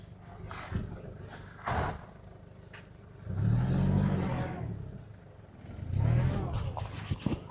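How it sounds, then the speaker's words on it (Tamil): A car driven hard along a rough off-road track near Kandy, its engine surging loudly in two strong bursts of revving, with voices talking over it. "அண்ணா வந்து வாகனத்தை பயங்கரமாக விட்றார்."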